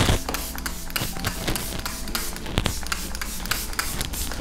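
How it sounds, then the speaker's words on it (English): Milk Makeup setting spray mists onto a face in a series of close, hissy bursts that repeat irregularly over a few seconds, with no talking. "I'm gonna actually spray this all over my face because I want it to lock in all of the makeup"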